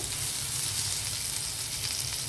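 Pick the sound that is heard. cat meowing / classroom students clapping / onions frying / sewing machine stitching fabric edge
onions frying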